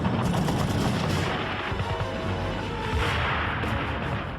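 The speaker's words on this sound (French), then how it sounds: "Elles sont immédiatement prises à partie par un feu nourri." Heavy gunfire during the WWII fighting at Vaagso fills a dense, loud, continuous din of rapid shots and rumbling bursts with no pause, as in archival combat footage.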